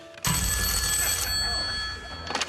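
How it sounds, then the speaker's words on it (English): A telephone rings loudly on the set of the Deal or No Deal TV game show. One sustained electronic bell-like ring fills most of the moment and then cuts off abruptly. "It's a phone."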